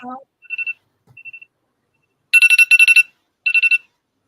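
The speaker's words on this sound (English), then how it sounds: "it's my alarm." A phone alarm chimes in short repeated electronic beeps, faint at first and then loud in three clustered bursts, with brief speech at the very start.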